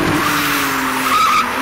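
Tires of an older Nissan Skyline styled like an R33 skid and squeal at a Lansdowne, Cape Town shoot, a loud steady screech with a rising whine near the end, engine noise beneath, no talk.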